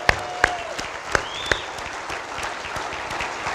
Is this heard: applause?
yes